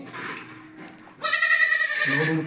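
A young goat lets out a loud, close, drawn-out bleat that follows a quieter, softer call in a household setting.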